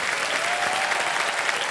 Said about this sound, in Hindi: और जोरदार तालियां बज जाए इनके लिए।